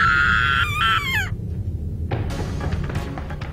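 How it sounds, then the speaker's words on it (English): A girl named Emi screams in the Corpse Party: Book of Shadows horror game, a short high wavering cry over a low droning background, followed by clattering, shuffling noises. "Emi let out another scream and came running toward me down the stairs."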